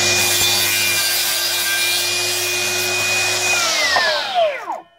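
A woodworking machine cuts the tongue off a wooden board with a loud, steady, high whine and rasp that holds for several seconds, then drops in pitch and dies away as the blade slows. It is close and there is no talking.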